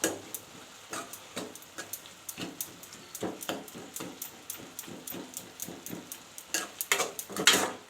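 Drumstick leaves sautéed in a pan on low flame, with rhythmic spoon scrapes and taps against the pan repeating every half second or so over a soft sizzle, growing louder toward the end.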